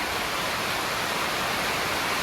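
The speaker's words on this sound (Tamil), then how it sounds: "இந்த மாதிரி கொஞ்சம் அதிகமாக பெய்யும் போது வாரி அடிக்குதுங்க தண்ணி" Heavy wind-driven rain pours and blows water into a kitchen, a dense, steady rushing hiss with no breaks and no voices.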